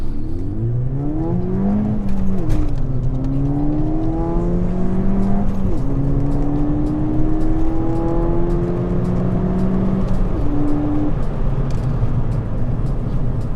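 Ford Fiesta ST accelerating at full throttle from a standstill during a 0–60 mph test, engine note rising steadily through several gear changes, loud and continuous from inside the car, no talk.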